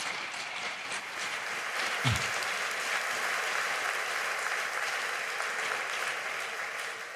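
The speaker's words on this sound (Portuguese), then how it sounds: "Dá um aplauso ao Senhor bem forte" A church congregation claps for the Lord, a steady, moderately loud wash of applause lasting several seconds, with one brief low thump partway through.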